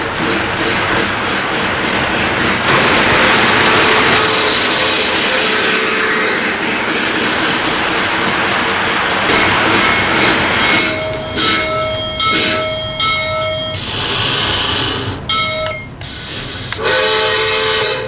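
A Lionel LionChief Polar Express model train running, with a loud continuous mechanical whir and clatter, then bursts of tonal whistle and bell-like effects in the latter half, no talking.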